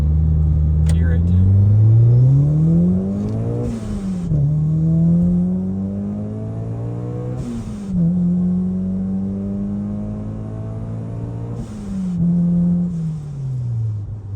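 A Kraftwerks-supercharged 9th gen Honda Civic Si engine pulls through the gears from inside the car, each rising whine broken by a shift, with voices talking over the engine.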